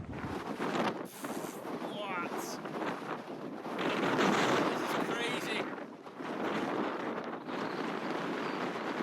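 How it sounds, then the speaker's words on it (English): Strong ocean wind in Malta buffets the microphone in rough, roaring gusts that swell and fade unevenly over several seconds, with faint surf-like rushing beneath. "gusts of wind would come in from the ocean and nearly knock me off my feet"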